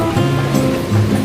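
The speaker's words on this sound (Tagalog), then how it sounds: "humahampas po yung tubig sa dalampasigan" Sea waves wash against the shore at Can Picafort on a windy day, a steady close rush of surf filling the short moment with no pause.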